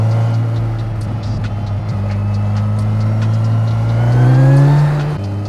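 Kawasaki Ninja 1000SX motorcycle ridden on mountain roads, its engine droning loudly and steadily, then rising in pitch as the bike accelerates near the end.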